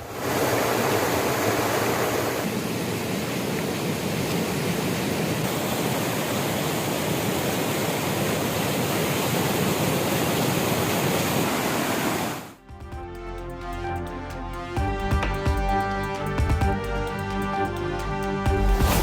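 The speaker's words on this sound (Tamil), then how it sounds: "கலிங்கலில் இருந்து சுமார் 10 அடி உயரத்திற்கு அருவி போல் ஆர்ப்பரித்து வெளியேறும் மழை நீர்" Rainwater from a filled lake pours over the overflow weir and drops about ten feet like a waterfall. The roar is loud and continuous for about twelve seconds, then cuts abruptly to music.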